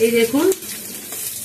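A spice paste of onion, ginger, green chilli and garlic fries in fish oil, a close, steady sizzling hiss, briefly under a short spoken phrase at the start.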